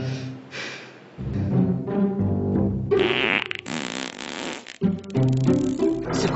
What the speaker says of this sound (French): As-tu pété?